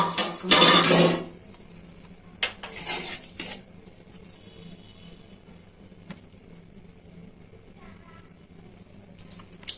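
A metal lid clatters onto a pot of curry cooking with ridge gourd and small shrimp, a sharp loud clank followed by a few softer knocks and scrapes, then quiet simmering.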